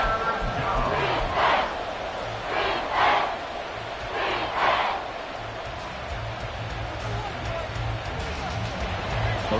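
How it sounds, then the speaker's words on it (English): Crowd at an XFL football game in a stadium, a steady loud roar with several swelling bursts of cheering rising over the constant din. "this crowd doing their best to make a lot of racket"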